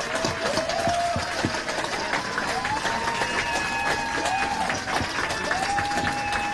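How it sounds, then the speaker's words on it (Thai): Sustained applause from a crowd, steady and fairly loud, with a few rising whistles cutting through the clapping. "ขอให้เราปรบมือดังๆให้จ่าแซมอีกครั้งนึงครับ"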